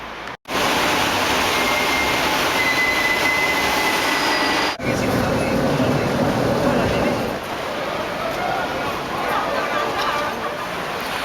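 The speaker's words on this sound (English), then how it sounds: "¿Nos vamos a coger el metro?" A Madrid metro train rumbles steadily through an underground tunnel, a loud continuous roar with a faint high squeal of the wheels and a brief break in the noise near the start and middle.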